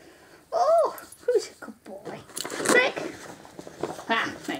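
A dog whimpers and yips in short high whines, close and fairly loud, interleaved with a person talking to it.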